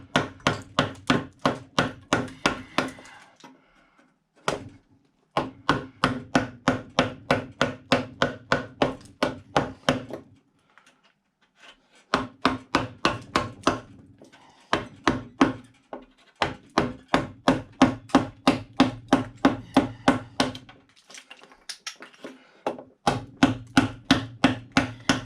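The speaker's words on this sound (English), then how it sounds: "it's a lot faster if you split it, and then you go back with your big gouge and break everything off" Big carving gouge splitting and breaking chunks off wood while roughing out the head of a large Bellamy eagle carving: bursts of rapid, sharp knocking strikes, close and loud, separated by short pauses.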